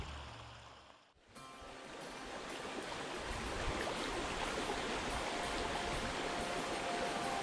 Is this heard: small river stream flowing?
yes